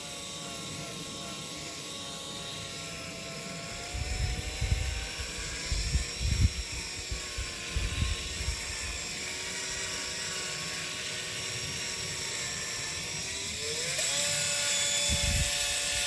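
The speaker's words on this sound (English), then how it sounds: "And we got a drill mounted cleaning rod here." A drill spins a bronze-brush cleaning rod inside the barrel of a Panzer EG200 shotgun, giving a steady close whine with a rising pitch near the end and scattered low knocks and thumps partway through.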